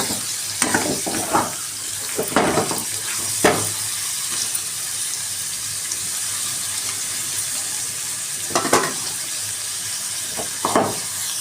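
Curry leaves and salt frying in a pan for an egg garlic chili dish, a continuous hiss of hot oil broken by several louder crackling bursts and stirring scrapes, close and loud.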